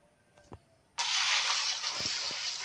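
Liquid pours in the Psychopath Hunt video game, a sudden steady hissing stream that starts after a couple of soft clicks and runs on continuously at moderate loudness.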